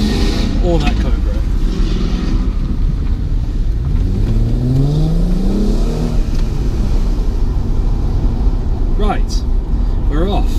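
A car engine pulls away in a convoy leaving a car show, with a Mark 1 Focus RS and a Cobra nearby; steady engine drone with a rising rev, while people talk over it.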